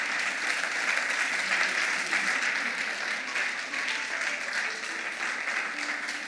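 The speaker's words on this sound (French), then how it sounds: "On va acclamer le Seigneur Jésus-Christ de Nazareth." A church congregation applauding steadily through a Sunday worship service, dense continuous clapping from many hands that holds at an even loudness without a break.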